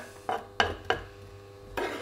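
Shallots dropped into hot olive oil in a casserole for a seafood and pumpkin stew, heard as a few sharp kitchen clatters and stirring knocks over a faint background, with no talk.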